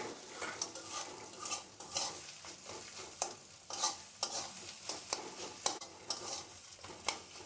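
Egg fries in hot oil over low gas as a spatula breaks it into small pieces, with soft steady sizzling and repeated clinking, scraping strokes of the spatula against the pan, fairly quiet.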